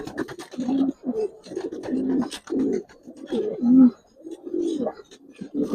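Giribaz pigeons coo inside a loft in a steady run of close, low throaty calls that overlap and rise and fall in short bursts.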